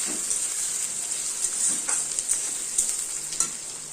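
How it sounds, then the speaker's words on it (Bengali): Chopped onions sizzle steadily in hot oil with black cumin, crushed garlic and chopped chilli, a continuous close frying hiss with small stirring pops, no talking. "পেঁয়াজটাকে ভালো করে ভাজা ভাজা করতে হবে"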